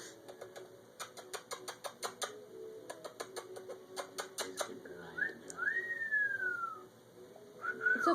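A pet bird gives a run of short, sharp chirping whistles in a quick rhythm, then a longer rising and falling wolf-whistle-like note, close and clear in a quiet room.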